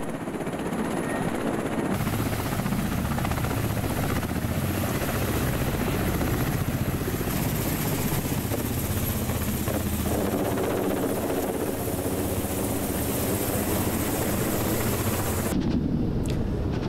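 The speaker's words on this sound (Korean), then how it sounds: "개전 초기 러시아는 키이우 공항을 타격하기 위하여 전투기와 헬기를 동원합니다." Russian military helicopters attacking Kyiv airport, a loud continuous rotor roar with steady thrumming that fills the whole span, the texture shifting partway through as the craft moves, with no voices.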